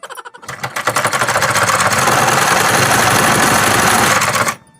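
A sewing machine stitching cloth runs steadily and loud for about four seconds, its fast rhythmic mechanical chatter starting abruptly and stopping near the end, with no voices.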